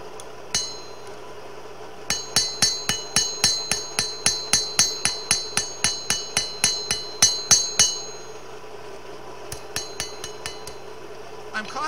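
A hammer strikes a crooked knife blade being forged from cold steel, a long regular run of about twenty ringing metallic blows close up, followed by a few lighter scattered taps.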